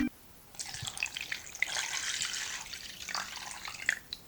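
Water is poured into a wooden bowl full of dominoes, a soft close splashing trickle lasting a few seconds with small drips at the end, no voices.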